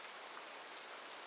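Steady rain falls continuously, a dense broadband hiss of drops on surfaces with no pauses, filling the whole moment at an even, moderate level with no voices.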